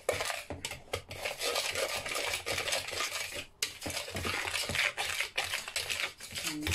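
Sugar and corn flour whisked together in a bowl for homemade custard, a steady clatter of the whisk scraping and tapping against the bowl with brief pauses, close and fairly loud, no voices.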